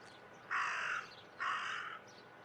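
Two long, harsh caws from a crow in the video game Martha Is Dead, evenly spaced and fairly soft against a low background hush.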